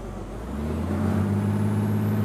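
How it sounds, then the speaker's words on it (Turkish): A Mercedes Actros truck hauling sand from a mine near Kirkenes in Euro Truck Simulator 2, its engine droning and rising steadily as the wheels spin, with no voices. "Patinaj çekiyor bak şuna."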